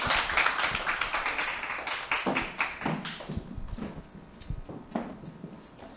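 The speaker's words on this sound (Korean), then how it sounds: "큰 박수로 모시도록 하겠습니다." An audience at a Monday morning company assembly claps to welcome a speaker, brisk scattered claps from a small group at close range, tapering and uneven toward the end.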